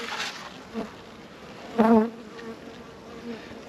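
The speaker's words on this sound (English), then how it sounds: "Welsh black bees flying around my veil" Welsh black bees buzz around a beehive and a beekeeper's veil, a low steady hum with one close insect droning loudly past for a moment.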